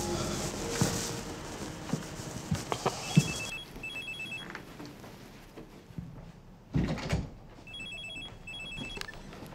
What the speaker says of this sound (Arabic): مش بيرن زي عوايده، ده شكله بيتصل.